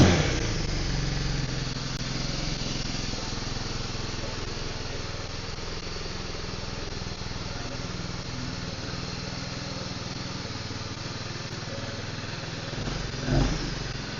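A Beta Alp 4.0 motorcycle with a slightly boggy throttle runs steadily at a low, rough idle, and one short rev swells near the end.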